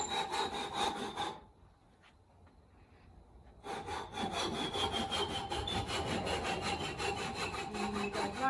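Hand saw cutting wood: steady, close back-and-forth strokes with a rasping edge, a pause of about two seconds, then a longer run of rhythmic sawing.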